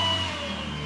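An E-flite Eratix 3D electric RC plane motor whines steadily at low throttle, a near, even tonal hum with no voices over it.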